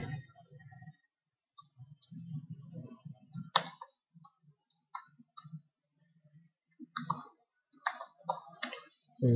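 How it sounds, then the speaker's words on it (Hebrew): A computer mouse gives a few sharp right-clicks while an order is filled out on a website, scattered and brief, with someone speaking quietly between them. "קליק ימני על העכבר"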